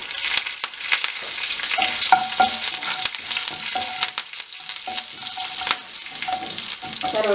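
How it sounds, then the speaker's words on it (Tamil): Cumin seeds and curry leaves fry in hot oil, a bright continuous sizzle with sharp crackles and pops scattered throughout, close and loud with no talking. "பொரியிற டைம் நாங்கள் இனி அரை தேக்கரண்டி அளவுக்கு பெரிய சீரகம் போடுவோம்."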